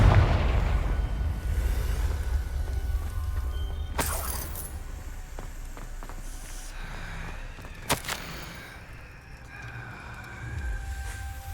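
A Confringo blasting spell explodes in the Hogwarts Legacy game: a loud, low rumbling blast that fades gradually, followed by sharp magical cracks and lingering effects.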